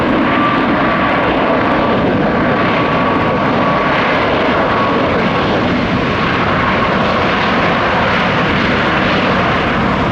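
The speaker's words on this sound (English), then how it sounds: "Came in a little hard on the reversers" A loud, steady roar of jet engines as an airliner lands using thrust reversers at Tampa airport, sustained and close for the whole stretch.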